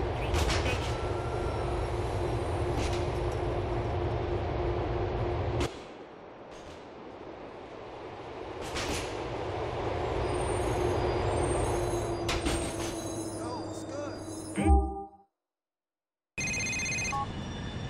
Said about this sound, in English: The train is approaching Huntington Street Station.